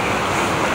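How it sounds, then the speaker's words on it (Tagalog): Large sea waves surge in rough weather, a continuous loud broadband wash of surf with steady wind-like hiss and no distinct breaks, close to the microphone on a fishing trip at sea. "Napakalaki ng alon."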